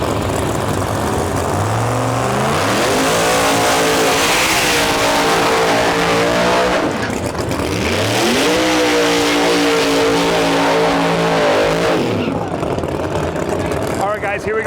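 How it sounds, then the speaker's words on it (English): Drag race cars at the Outlaw Armageddon small-tire semifinals rev loudly, engines climbing and dropping in pitch through repeated revving swells, with Ryan Martin's Phoenix among them and a voice talking over the steady engine roar. "Got Ryan Martin with the Phoenix in the left lane"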